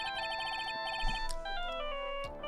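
A phone rings in the Ace Attorney: Justice for All video game, a bright electronic ringtone of repeated tonal chirps over soft game music, moderately loud and with no talk.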